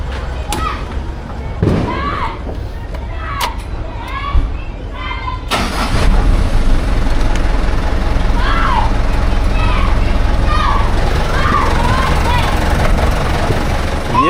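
Vehicle engines running as a New Year's Eve tradition, a steady rumbling drone that swells louder midway and holds, with thuds, shouting children and talking voices throughout.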